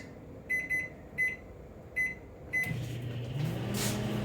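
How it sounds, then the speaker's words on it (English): Microwave oven heating rosé sauce for meatballs at power level 8, giving four short beeps at even intervals before the low steady hum of the running oven takes over, close by with no talk. "Rosé sauce is ready to go into the microwave, and I'll do it for 3 minutes"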